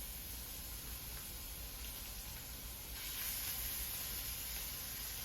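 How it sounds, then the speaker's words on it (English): Clarified butter sizzles in a pan over high heat, a steady faint hiss that swells slightly partway through, with no talk over it. "So we got a nice high heat that clarified butter is smoking."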